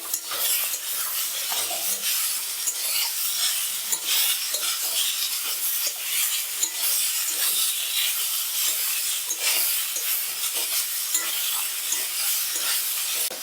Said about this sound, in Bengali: জিরে বাটা আলু বেগুনের সাথে একটু কষে নিচ্ছি এইভাবে